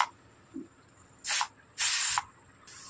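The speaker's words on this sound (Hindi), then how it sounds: "पहले तो हम कुकर का गैस निकाल लेते हैं।" Bursts of hissing steam released from a pressure cooker of cooked pea and urad dal: a short puff, then two longer loud blasts and another starting at the end.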